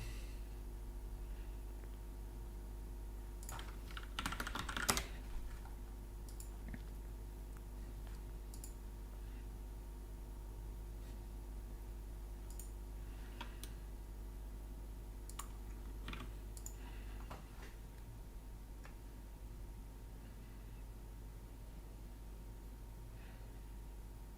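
Computer keyboard typing heard close to a microphone, with a dense burst of clicking keys near the start and scattered lighter taps afterward over a steady low background hum.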